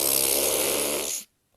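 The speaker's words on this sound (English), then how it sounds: "the only thing that came out of Farley was a very loud fart" A loud, long fart sound effect buzzes steadily for about a second, broad and raspy, then cuts off abruptly into silence.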